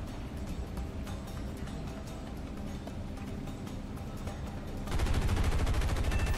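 Aircraft .50 cal machine guns firing in War Thunder, a long continuous rattle of rapid shots that swells into a louder, heavier burst near the end, steady and close, with no talk.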